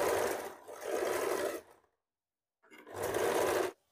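A sewing machine stitches blouse fabric in two bursts of fast, steady whirring, with a brief silent pause between them. The machine is close and there is no talk over it.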